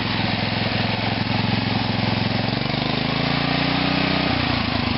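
An OFNA model engine with a carburetor runs loud and close, giving a steady high-pitched buzzing drone whose pitch shifts slightly as it revs, continuous without pause.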